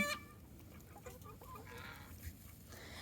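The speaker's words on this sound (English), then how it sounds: "that rooster, has made all the noise" Chickens and a rooster cluck and squawk inside a backyard coop, with a sharp call at the start and scattered agitated clucks following, fairly close but soft.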